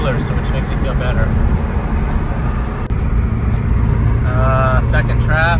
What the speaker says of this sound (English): Stuck in traffic, trying to drive polite.